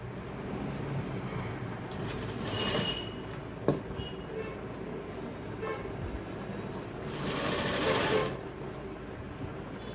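A sewing machine stitches the folded hem of a pair of men's trousers in a tailoring shop, running in steady stretches with louder surges, over a constant background hum and an occasional sharp knock.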